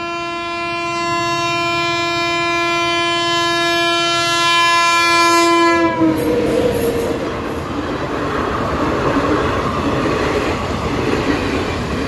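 A fast train rushes past a closed level crossing beside farm fields, its loud sustained horn blaring for several seconds before giving way to the heavy roar and rattle of the passing cars, close by.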